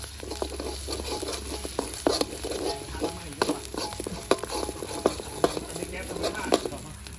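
Busy sizzling and scraping in a hot pan as Thai curry paste is stir-fried, with steady clatter and occasional sharper knocks throughout.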